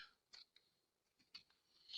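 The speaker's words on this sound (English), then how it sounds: "Take my scissors, see now, And I'm just going to cut around that" A few quiet, crisp scissor snips cut fabric close by, spaced irregularly across a near-silent background.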